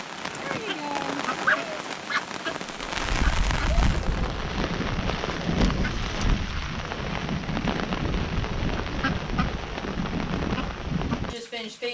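Steady rain falls outside around a poultry yard, a dense patter on surfaces that thickens after a few seconds and stays even, close and moderately loud, with no voices.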